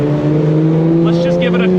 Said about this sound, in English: Let's just give it a quick rip at like 35 miles an hour.